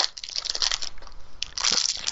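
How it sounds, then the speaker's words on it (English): Crinkly crunching of a sweets wrapper being opened close by, a dense run of crackles across the whole moment with a louder burst near the end. "What sweets are you opening?"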